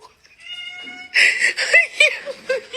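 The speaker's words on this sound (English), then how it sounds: "the cat agreeing with her meowing" A cat meows several times in short, rising and falling calls that follow a thin, sustained tone, with a woman's soft giggling mixed in nearby.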